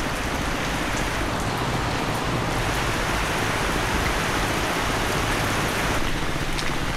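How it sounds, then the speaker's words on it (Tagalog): Heavy, steady rain pours down continuously, a dense close hiss of drops on surfaces with no voices. "Ayan na may ulan."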